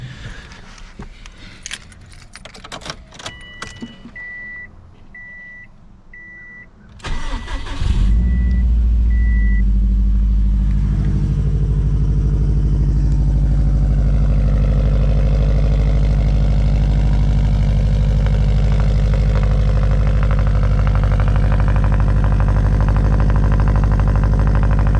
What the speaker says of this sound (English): let's get a cold start of this thing for you guys and get this thing going